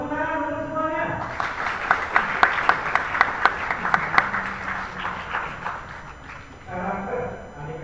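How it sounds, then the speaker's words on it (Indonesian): Audience at a National Education Day dialogue event bursts into applause, a cluster of sharp individual claps rising after a voice and fading as speech resumes. "Tepuk tangan untuk semuanya."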